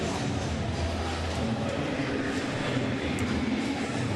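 A train sound effect in a radio advert for taking the train to Citi Field, a steady loud rumbling roar with faint rhythmic clatter filling the whole stretch.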